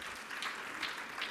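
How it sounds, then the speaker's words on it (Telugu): A church audience claps together in praise of God, a brief, fairly soft round of applause with a few surging peaks, and no talking over it. "ఒకసారి చప్పట్లు కొట్టి దేవుని స్తుతిద్దాం."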